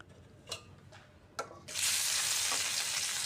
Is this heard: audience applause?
no